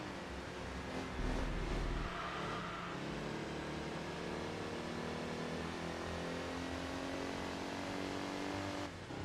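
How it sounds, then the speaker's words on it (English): Race car engine in the Enthusia Professional Racing video game, a steady loud drone with rising revs and gear changes, continuous throughout with no voices. "How does the race car sound worse than the road car?"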